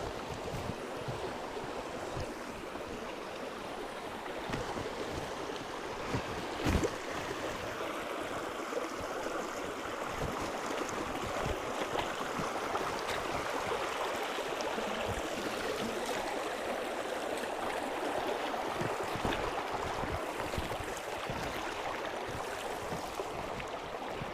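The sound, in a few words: waterfall in a forest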